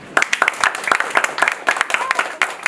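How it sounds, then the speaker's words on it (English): A single row of audience members at a church conference claps together, a quick string of close, sharp hand claps with a slightly ragged rhythm. "The whole row clap."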